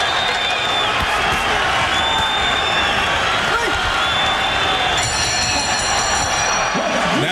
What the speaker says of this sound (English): The crowd gives a good standing ovation.